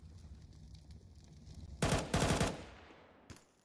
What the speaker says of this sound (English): Queenix, just having a shooting gallery. Able to gun down 3